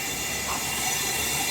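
Train at Sir M. Visvesvaraya Terminal, Bengaluru, a steady rumbling hiss of rail noise with faint squealing, continuous and fairly close throughout the short clip.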